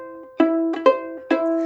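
Two sustained bowed viola notes, E then the lower C, each sounding for several beats, with a brief bow restart in between and no talking.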